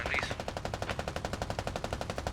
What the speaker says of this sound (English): 50 cal stop shooting friendlies.